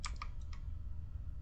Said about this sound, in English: I'm sorry if you hear the keyboard